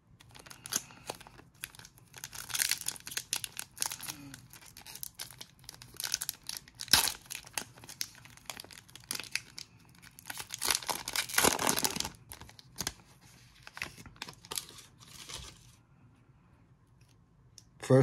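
A foil trading card pack of 2020 Contenders Optic football cards is ripped open up close, giving bursts of crinkling and tearing that come and go over several seconds, quiet and without talk.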